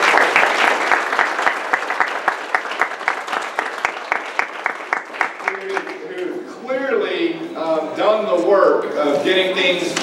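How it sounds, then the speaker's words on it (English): A church congregation claps for summer Bible school helpers: at first distinct, rhythmic claps close by, then softer scattered clapping as a person starts speaking over it. "to quickly give a round of applause for all those who are helping out with VBS"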